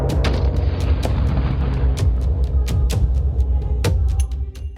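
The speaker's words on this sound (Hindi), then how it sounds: "अफगानिस्तान में फिर हुआ धमाका।" Heavy booms and repeated sharp cracks from the explosion at a mosque in Kandahar, Afghanistan, loud and continuous over a deep, rumbling roar.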